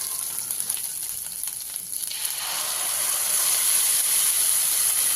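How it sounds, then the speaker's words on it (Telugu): Kofta curry masala frying in a pan: a close, steady hissing sizzle that swells louder and brighter halfway through, with light stirring early on. "పచ్చివాసన పోయేదాకా వేయించుకోవాలి"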